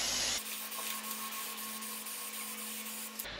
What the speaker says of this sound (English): Let's see how far away to spray.